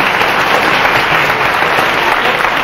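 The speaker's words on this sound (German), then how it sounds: "Ein Applaus für ihn." Loud, dense applause fills a hall at a talk on trance experiences, a steady roar of many hands clapping together from start to finish.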